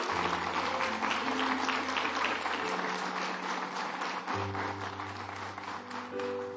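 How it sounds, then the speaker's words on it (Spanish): A church congregation claps in a sustained burst of applause, with steady dense clapping over a low musical hum and no speech. "Ese aplauso merece."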